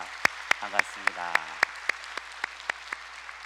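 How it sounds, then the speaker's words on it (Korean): A church congregation claps in a steady, even rhythm to welcome a visiting missionary, with sharp, regularly spaced claps and a voice speaking over the start. "우리 힘찬 박수로 환영해 주시기 바랍니다"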